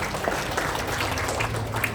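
A congregation at a Christian revival service in Malang claps together for Jesus, producing steady, dense applause at moderate distance with no talking.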